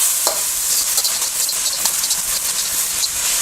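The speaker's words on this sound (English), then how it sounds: "Put in the bamboo shoot. Okay. And start stirring again." Vegetables with bamboo shoots stir-fried in a wok, a loud, steady sizzle and hiss broken by quick scraping strokes of the spatula, close and without speech.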